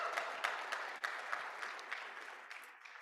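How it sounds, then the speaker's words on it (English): Brief, moderately quiet applause from a gala and awards show audience, a wash of clapping with scattered sharper claps that gradually thins out over about three seconds. "round of applause"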